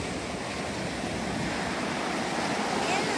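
Sea waves at high tide on a beach in Pattani, a continuous broad roar of surf with some wind noise, steady and loud throughout.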